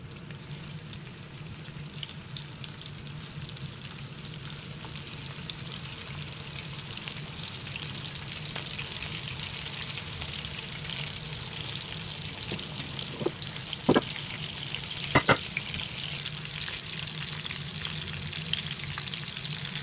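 Chicken kebabs fry in oil with a steady, fairly quiet bubbling hiss and scattered small pops and crackles throughout, with no voices.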